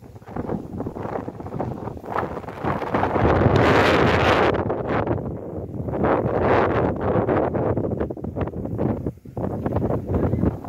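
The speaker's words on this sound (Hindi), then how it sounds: "हवा चल रहा है बारिश रुक गई अभी" Strong wind gusts after heavy rain at Cadet College Kohlu, Pakistan, roar and buffet the microphone continuously, swelling louder in the middle and rustling throughout with no voices.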